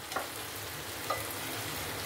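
Mutton marinated for four hours cooks in a spice masala that has been fried down until the oil separates. A steady, soft sizzle is heard alone, with two faint clicks of a utensil.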